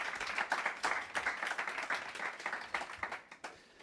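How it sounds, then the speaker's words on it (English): A conference audience in a talk room claps for a speaker, a modest round of scattered hand claps at moderate distance that thins out and fades near the end. "Applause for Lazar, please."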